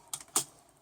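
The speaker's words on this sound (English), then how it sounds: "we're going to type in" A few quick keystrokes on a computer keyboard, close and light, spaced irregularly over less than a second with no talking.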